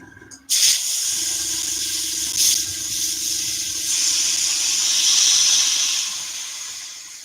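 An airbrush connected by hose to a compressor releases a sharp burst of air, then a steady close hiss that rises slightly and fades near the end.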